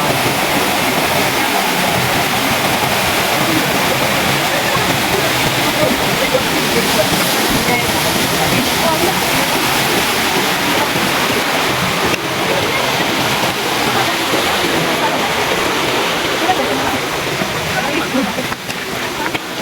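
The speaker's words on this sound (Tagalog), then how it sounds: "ganda ng batis" Mountain stream in Buscalan, Tinglayan rushing steadily and loudly, a dense broadband wash of flowing water that fills the whole stretch without pause.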